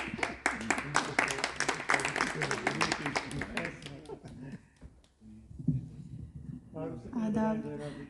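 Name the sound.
audience applause for a poetry recital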